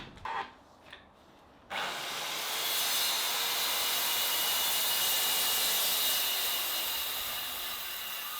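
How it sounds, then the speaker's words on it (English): A power saw cutting a wooden cabinet top to final length outdoors, a few short knocks and then a loud, steady, high rasping cut that holds for several seconds without talk. "I trimmed a fresh edge on each end, and this is when I cut it down to the final length"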